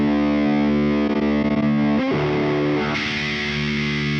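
A heavily distorted electric guitar rings out loud and sustained through an amp, with a few choppy strums before settling into a thick, buzzing chord.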